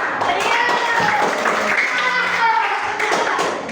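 Classroom applause from students at an Islamic college teaching practice session, a steady dense patter of many hands clapping close by for a few seconds, with some voices mixed in.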